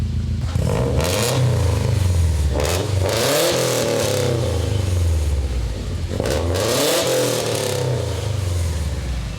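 A catless Subaru STI with a Cobb titanium exhaust revs up and down in two surges, a deep throaty roar rising and falling between idle, loud and close.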